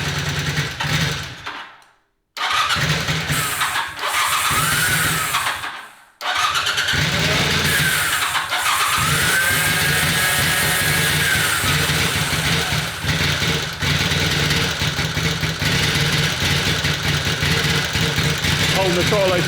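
A Honda CB250 Super Dream motorcycle engine struggles to start, cutting out twice, then catches and idles with the throttle held slightly open, a steady close rattling beat under a voice.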